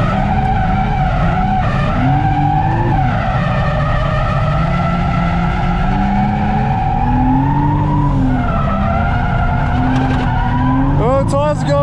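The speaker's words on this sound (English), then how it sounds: "Oh, the tires are going!" Toyota JZX100 Mark II drifting at Nikko Circuit, engine note rising and falling continuously with loud tire squeal and skidding throughout, a sharp squeal burst near the end.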